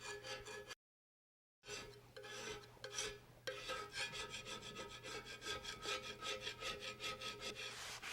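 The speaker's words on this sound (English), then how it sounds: "I'm going to use this rather crude scraper just to go over it and pop off some of that stuff" Crude hand scraper rasping spilled residue off a table saw surface during a Unisaw restoration, repeated rhythmic scraping strokes, close and steady, with one brief silent gap and no talking.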